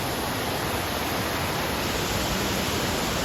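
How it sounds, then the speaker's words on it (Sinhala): Continuous roar of the 116-metre Kiri Diyella waterfall in Ratnapura, a dense, unchanging wash of crashing water heard close and fairly loud. "මේ තමයි කිරිදියැල්ල."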